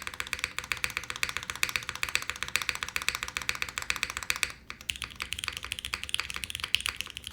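Steady, fast typing on an Eden 60% mechanical keyboard with an O-ring build, dense close-up clacks in a continuous rhythm with a brief pause near the middle and no talking.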